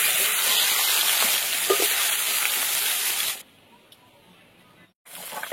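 Fish rubbed with turmeric and salt sizzles loudly in mustard oil in a wok, a dense crackling hiss for about three seconds that then drops away abruptly to near quiet before a brief return.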